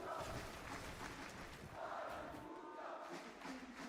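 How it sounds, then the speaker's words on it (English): A large arena crowd at the Fortnite Global Championship, a continuous roaring swell of cheering and shouting heard fairly faintly, with a voice talking over it. "The crowd just constantly cheering for anybody on the MA or Havoc squads"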